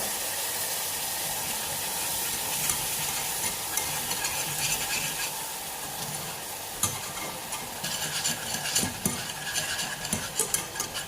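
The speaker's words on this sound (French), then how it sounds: "Et mélanger pendant 3 minutes" Raspberry ganache for macarons being stirred in a pan, a steady close scraping and swishing with soft sizzling hiss and occasional utensil clinks throughout.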